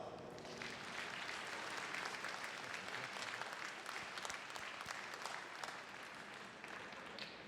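A large graduation audience applauds the graduates' parents in a continuous, dense roar of clapping that holds steady for several seconds before easing slightly toward the end, heard at a distance and fairly quiet.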